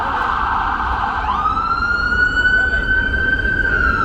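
Ambulance siren on a New York street, a steady wailing tone rising in and holding loud over traffic noise, with several emergency vehicles converging on an accident scene.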